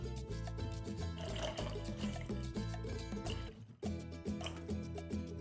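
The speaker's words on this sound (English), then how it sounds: "cover them completely with room temperature water" Room-temperature water is poured into a small saucepan holding potatoes, a continuous splashing and trickling with a brief break near the end before the pour resumes.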